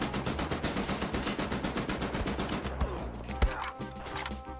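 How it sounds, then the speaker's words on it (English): Machine gun fire in Wolfenstein: The New Order, a rapid steady stream of close, loud shots for about three seconds, then a few scattered impacts and clatter as it stops. "Let's get our machine gun out."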